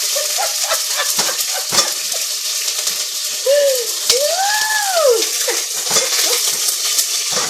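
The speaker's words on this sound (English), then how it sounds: "So we're going to add our chicken. Listen to that." Chicken pieces dropped into a hot smoking frying pan, giving a loud, continuous crackling sizzle with sharp spits and splatters and a few ringing clinks of utensils, heard up close without talk.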